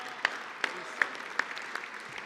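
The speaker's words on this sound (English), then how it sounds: "Give him a good round of applause, please." Sparse, faint applause at a football foundation awards dinner greets the dinner's co-chairperson, a handful of distinct claps spaced out over a quiet room rather than a full ovation.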